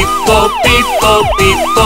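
Cartoon police car siren from a Korean children's car song, a loud wailing tone sweeping down and back up in four quick repeated cycles over a bright musical backing, with no voices.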